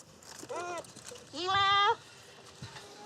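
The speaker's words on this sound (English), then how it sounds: "We take fur samples from 2 goats intended to be used for meat consumption" Two goats kept for meat bleating nearby, a short wavering bleat followed by a longer, louder quavering cry, with faint background noise between calls.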